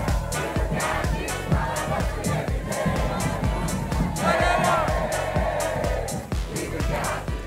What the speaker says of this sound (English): The incredible energy from this crowd is unbelievable.